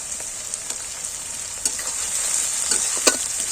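Ginger paste and chopped tomato being stirred in oil in a frying pan, with a steady close sizzle and a series of sharp metallic scrapes and taps from the spatula, growing busier toward the end.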